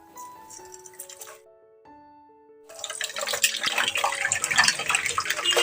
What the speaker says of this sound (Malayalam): ഇനി ചൂടായി കിടക്കുന്ന എണ്ണയിലേക്ക് പുഴുങ്ങിയ മുട്ട ഓരോന്നായിട്ട് ഇട്ട് കൊടുക്കാം